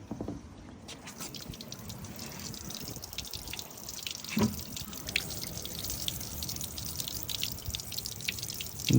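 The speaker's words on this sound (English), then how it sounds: "Looks like the Cybertruck is peeing." Water drains from the storage locker of a Tesla Cybertruck after its plug is pulled, heard as a soft continuous trickle with scattered drips and small splashes, fairly quiet and steady.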